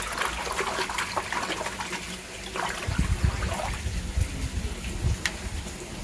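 Water sloshes and trickles steadily up close as dechlorinator is stirred into it during koi pond filter cleaning, with a few soft splashes and no talking.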